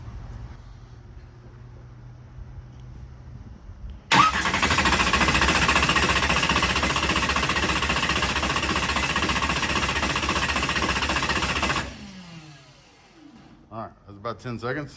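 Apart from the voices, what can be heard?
engine cranking with starter bump button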